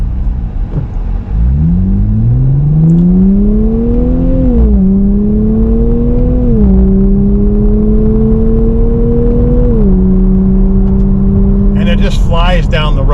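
A 2024 Nissan Z Nismo accelerates hard down the road, its engine rising in pitch through several gear changes, each shift marked by a brief dip before the climb resumes, loud and close with a steady road rumble and someone speaking over it.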